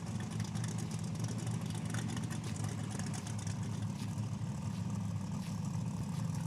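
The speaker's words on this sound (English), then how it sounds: "we got a 67 Camaro in the left lane and a 67 Pontiac Firebird, aka the Warbird, in the right" Two drag cars, a 1967 Camaro and a 1967 Pontiac Firebird, sit at the starting line at Saskatchewan International Raceway, their engines holding a loud, continuous, deep rumble that is steady throughout with no speech.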